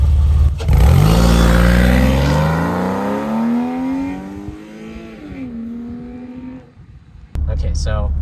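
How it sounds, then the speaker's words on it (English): Porsche 996 accelerating hard through second gear, its engine note climbing steadily in a long rising pull from inside the car, then easing off. A voice briefly talks at the end. "foot to the floor until it runs through second gear, about 70 miles an hour"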